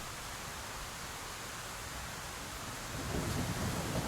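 Steady hiss of heavy rain, with a low rumble of thunder rising toward the end, and no voices.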